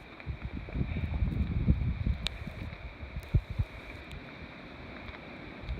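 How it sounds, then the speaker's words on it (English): Wind gusts across an open hillside section of the Pacific Crest Trail in February, a low steady rushing and buffeting against the microphone, fairly quiet with faint rustle and no talk. "The wind's picking up."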